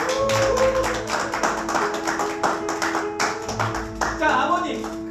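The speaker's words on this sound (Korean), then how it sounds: "큰 박수 부탁드리겠습니다" Clapping from a crowd at a Korean first-birthday party in a hotel runs steadily throughout, mixed with music and some background voices.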